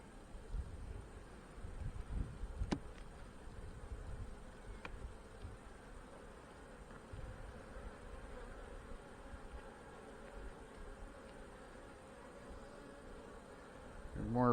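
Honey bees buzz around an open hive in a fireweed area, making a faint, steady hum that drifts near and away. There are occasional soft knocks and rustles and light wind, and no talk.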